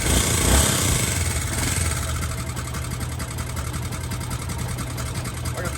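Revived abandoned Suzuki motorcycle with a freshly tuned carburetor, its engine running at a steady, close idle with a rapid, even throb that stays level throughout.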